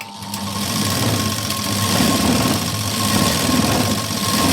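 A sewing machine runs a double seam, its close, loud mechanical whir and rapid stitching rattle holding steady from start to finish without pause.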